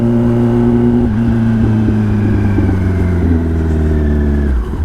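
Motorcycle engine running loud and close, holding a steady throaty drone with slight rises in revs throughout, then cutting off abruptly at the end.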